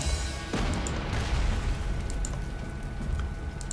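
Artillery bombardment in Panzer Corps 2: a sharp blast lands early, then a rumbling roar with scattered crackling pops rolls on for several seconds, loud and without talk.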